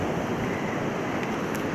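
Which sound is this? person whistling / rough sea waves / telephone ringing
rough sea waves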